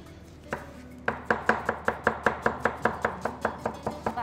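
Onions being chopped on a cutting board: a steady run of about a dozen sharp knife strikes, evenly spaced and close, after one or two slower opening cuts, with no talking.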